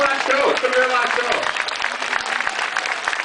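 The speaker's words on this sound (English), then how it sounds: "Let's give a big round of applause for Cookie." An audience at an elephant show applauds, crowd clapping spread through the whole moment, mixed with a talking voice near the start.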